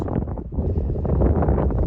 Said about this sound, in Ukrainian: ну вітер, звісно, неприємний